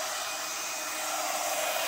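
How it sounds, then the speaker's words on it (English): Hair dryer or heat gun blowing hot air to emboss an acrylic pour painting, a steady close whooshing roar that holds without pause and swells slightly toward the end, with no voices. "We're going to take either a blow dryer that blows hot air, or a heat gun, or an actual embossing gun."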